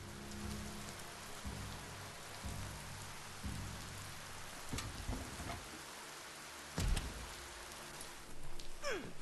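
Steady rainfall in the video game Biomutant patters across surfaces as a dense, even hiss, with a few soft low thumps and knocks rising briefly above it.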